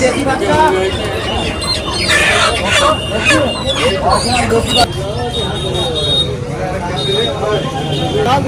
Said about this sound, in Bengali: শুধু হাঁস আর মুরগি